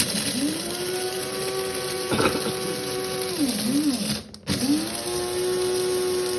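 An electric grinder whirs through coffee beans, a steady motor hum whose pitch dips and wavers as the load changes, broken by a brief crunchy burst and a short stop before spinning up again, close and moderately loud.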